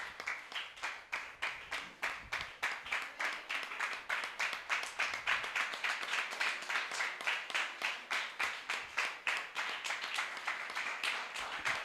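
Church congregation clapping in a steady, rhythmic beat at a Sunday service, the even claps repeating evenly for the whole stretch, moderately loud with no talk over them.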